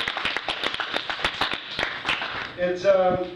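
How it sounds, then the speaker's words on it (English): A small pub audience at a stand-up comedy night claps in scattered, distinct hand strikes, moderately close, fading out as a voice begins speaking at the end. "Another round of a hand, or round of applause for first time"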